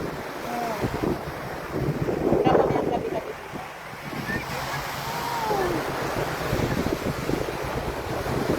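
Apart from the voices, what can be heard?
sea waves at a beach in Dubai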